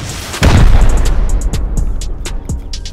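Rocket explosions during a solo compound raid in a video game: one heavy, loud boom followed by several smaller blasts and debris pops over about two seconds.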